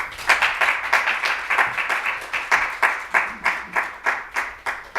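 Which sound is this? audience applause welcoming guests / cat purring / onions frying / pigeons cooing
audience applause welcoming guests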